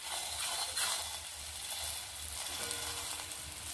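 Sattu paratha fries in ghee in a hot pan, giving a steady, close hiss and crackle with faint low rumbling beneath and no voices.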